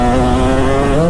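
A Kawasaki KX250 dirt bike engine screams loud and close on a woods motocross track, a continuous high-revving two-stroke buzz with slight pitch shifts, alone without talk.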